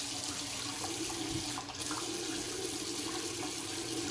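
Water runs from a tap while preparing shaving lather, a quiet, steady trickling stream that continues without a break and without talk.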